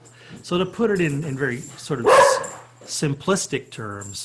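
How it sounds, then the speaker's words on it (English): A pet dog barks several times in the background of a home talk recording, its short yaps mixed under steady, continuous male speech throughout. "my dog is barking"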